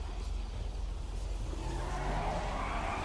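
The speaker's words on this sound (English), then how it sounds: "Hey, no need to be spinning your tires." In GTA 5, a car spins its tires, giving a revving engine drone with a rising squealing tone, fairly faint and continuous over a low rumble.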